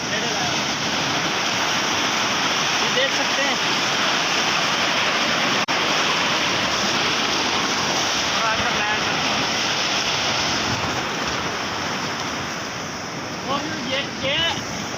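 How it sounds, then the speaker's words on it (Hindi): Steady, loud rush of fast-flowing irrigation canal water filling the whole clip, with someone speaking briefly over it near the middle. "ये देख सकते हैं पानी कितना तेज है"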